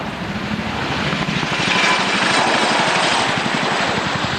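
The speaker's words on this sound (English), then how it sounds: "an impression from the heavy rotor blades of this magnificent helicopter" Chinook helicopter heavy twin rotors thudding in a steady, rapid low beat with a broad turbine roar above, loud and close throughout, swelling slightly as it goes.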